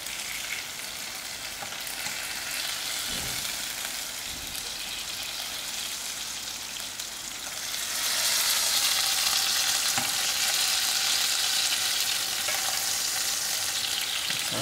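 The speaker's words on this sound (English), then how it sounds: "I am using my fork to break out the dry fish and allow the pieces" Dried fish frying in hot oil for a traditional chutney, the pieces broken apart with a fork; a steady close sizzle that swells louder about halfway through, with a few faint scraping knocks and no voices.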